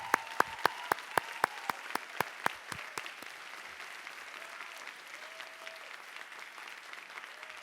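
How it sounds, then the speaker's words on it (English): Graduating students in an auditorium burst into applause for faculty and staff: a run of sharp, loud claps in the first three seconds that fades into a soft crowd murmur. "ask for a round of applause from us students to thank you, our faculty and staff"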